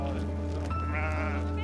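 Sheep bleat close by while the flock is moved up to mountain pasture with their lambs, a single drawn-out wavering call over a steady low background hum.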